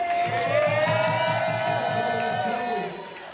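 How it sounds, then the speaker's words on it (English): A crowd at an art competition in Chicago cheers and whoops loudly with scattered clapping, fading toward the end. "Let's make a huge round of applause for Jasmine Lewis!"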